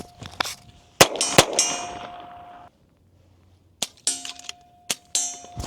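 An FX Airguns DRS Tactical Compact air rifle fires several sharp, close shots on an outdoor range, some followed by ringing metallic pings from struck steel targets, with short silent gaps between them.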